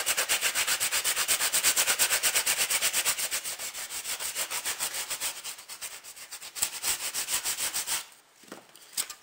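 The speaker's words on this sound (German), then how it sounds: "Und jetzt schleifen wir ein bisschen." Rapid, rhythmic rubbing strokes of sanding on thin embossed metal foil, close and steady, slowing and fading near the end.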